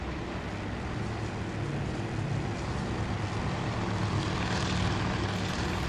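Propeller aircraft engines running aboard a carrier in the naval strategy game Task Force Admiral, Battle of the Coral Sea, a steady loud droning rumble that holds throughout without pause.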